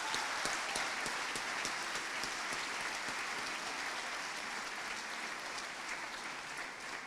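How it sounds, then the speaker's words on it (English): A graduation ceremony audience applauds in a steady, dense wash of clapping that holds evenly for several seconds, heard from a distance. "Let's give them a big round of applause"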